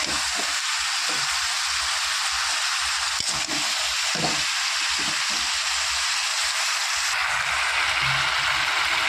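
Mixed vegetables frying in a pan with salt and turmeric for a vegetarian curry, a steady broadband sizzle running throughout with a few soft stirring knocks, close and continuous, no talking.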